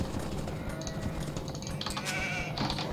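Sheep in the Age of Empires 2 game bleat in short, thin cries, two or three bursts over a steady low background hum, with faint clicking interface sounds.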